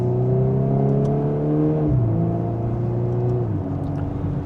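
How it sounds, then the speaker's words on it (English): Volkswagen Golf R in R mode, second gear, accelerating gently: a smooth, loud engine hum with steady tones that step down twice as the revs shift, recorded close with no talking. "And just a mild acceleration."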